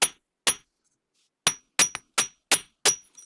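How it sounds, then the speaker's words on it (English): A chasing hammer taps a wire-wrapped crescent moon pendant, giving about eight sharp, close metallic strikes at an irregular pace, each decaying quickly into silence. "use the chasing hammer. You're gonna use the wide portion right here. Okay, and you're gonna tap on these bottom areas of your points to that moon"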